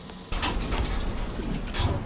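An elevator door slides open in a Roblox game, giving a short, steady mechanical whoosh with a faint high tone and a soft thump at the end.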